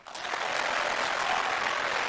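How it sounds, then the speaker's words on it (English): Crowd applause builds quickly at the World Snooker Championship final at the Crucible in Sheffield, a dense, even clapping that holds steady, moderately loud, without commentary over it. "You can hear the applause"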